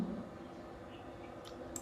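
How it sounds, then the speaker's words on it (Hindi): Two faint, quick computer mouse clicks come late in the clip over a steady low room hum, made while working on a website. "ऐड न्यू पोस्ट पे क्लिक करते हैं"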